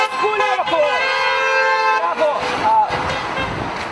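Car horns at a street protest honk repeatedly, loud and close, long sustained blasts overlapping with shorter toots amid traffic noise and voices in the crowd.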